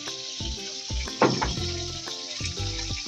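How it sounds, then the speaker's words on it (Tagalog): Squash sautéing in a hot pan gives a steady sizzle with a louder burst of crackling as the pieces are stirred, alone and close. "Igigisa ko na yung kalabasa"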